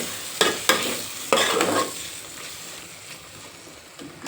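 Pea and potato bhaji stirred in a pan, a few sharp scraping strokes near the start and a longer stir around one and a half seconds over a soft steady sizzle, then quieter cooking.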